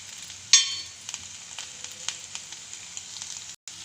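Okra frying in a pan for a masala bhindi curry gives a steady close sizzle, with a sharp crackling burst near the start and small pops and scrapes scattered through the rest.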